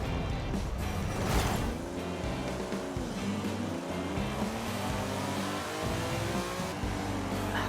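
A Lamborghini Miura engine accelerates in Forza Horizon 5, a loud, continuous roar whose pitch climbs through the gears with brief dips at shifts, steady and close throughout with no voices.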